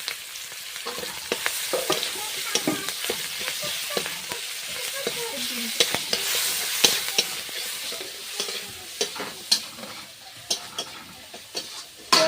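Onion, chilli and ginger-garlic paste sizzle in hot oil as a spoon scrapes and stirs the pan, giving steady crackling frying with frequent sharp clinks and scrapes up close.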